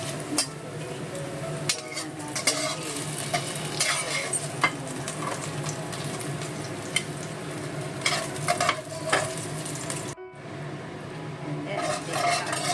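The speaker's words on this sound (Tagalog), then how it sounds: "Prito natin ito ng ating chili." Steady crackling sizzle of twisted chili peppers frying in a pan used for pork, with occasional clinks and scrapes of a utensil stirring, continuous and close.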